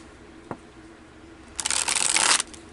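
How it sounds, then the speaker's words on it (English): Oversized tarot cards being shuffled, a single soft tap first, then a dense burst of riffling, flapping card noise lasting close to a second, near and fairly loud with no talking. "The Ethereal vision is difficult for me to shuffle because they are bigger cards"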